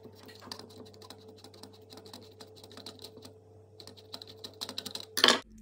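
Small screw on the battery cover of a Fluke T110 voltage tester being unscrewed, a close run of light, rapid ticking clicks ending in a brief louder scrape and clatter.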